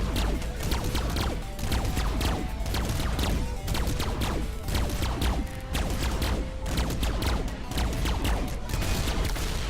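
Spaceship weapons in the game Starship Theory firing on an enemy ship to blow a hole in its hull, a dense steady barrage of rapid blasts and crashes that runs on without a break at high loudness.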